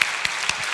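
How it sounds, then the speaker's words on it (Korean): A church congregation applauds its young members in a brief burst of clapping indoors, a steady wash of many hands with a few sharper claps standing out. "우리 청년들 얼마나 사랑스러운지 우리 한번 박수 한번 드리면 좋겠습니다"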